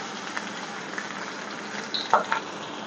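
Chopped onions fry in a hot pan for a chaulai and chana dal sabzi, giving a steady close sizzle broken by a couple of light stirring scrapes.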